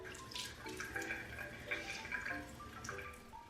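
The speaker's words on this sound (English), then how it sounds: "Let me rinse it off." Running water rinses face cleanser off at a sink, a soft, fairly quiet splashing and trickling that continues steadily and is heard alone.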